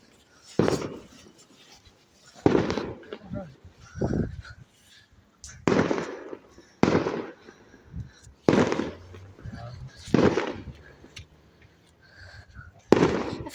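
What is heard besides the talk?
fireworks going off on bonfire night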